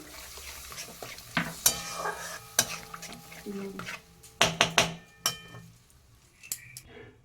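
Spice masala being stirred in a pan with a little water: a utensil scrapes and clinks against the metal in scattered bursts, with a soft sizzle beneath and no talk.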